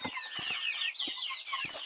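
Two-and-a-half-month-old chicks cheep and cluck in a steady, busy chatter, close by, with a few soft thumps underneath.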